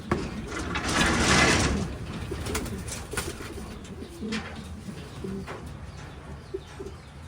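Racing pigeons at the loft coo and flutter nearby, with a burst of wing or rustling noise early on and soft intermittent coos and knocks afterward.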